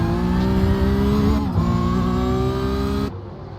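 A Porsche Carrera Cup race car on track in the final lap, its engine a loud sustained whine with steady harmonics that dips briefly near a corner before the sound cuts down at the end.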